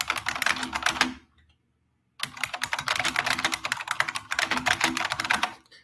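Loud computer keyboard typed on rapidly: dense bursts of sharp clicking keystrokes, close and clear, broken by a pause of about a second of near silence before the typing resumes at the same busy pace. No talking.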